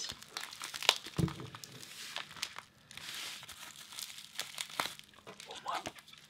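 Plastic packaging crinkles and tears close by as a package is opened with scissors, in irregular bursts of crackling with brief quieter pauses.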